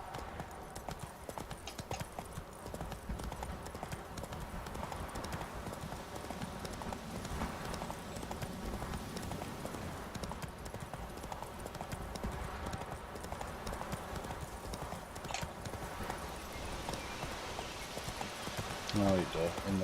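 Hooves of Geralt's horse Roach in The Witcher 3, a steady rhythmic clip-clop at a trotting pace under ambient game sound and speech, ending with a brief whinny.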